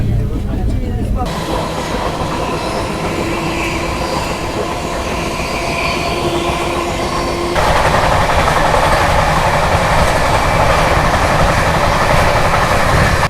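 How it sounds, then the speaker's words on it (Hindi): The Rani Kamlapati to New Delhi Shatabdi Express pulls out of Bhopal, with a loud, steady rumble of rolling wheels and a faint squeal of metal on rail. The noise grows heavier partway through, and a voice is heard faintly underneath. "ट्रेन निकल चुकी है भोपाल से"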